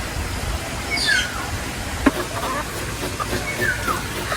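Chickens cluck and squawk faintly in an outdoor yard, a couple of rising calls over steady background noise with a sharp knock in between.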